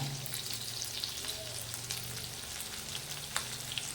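Dried red chillies, curry leaves, green chilli and grated ginger sizzle in hot oil for a tempering. The frying crackle is steady and close, with scattered pops.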